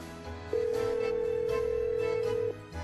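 A single steady electronic phone ring tone sounds for about two seconds over a murky background, then cuts off.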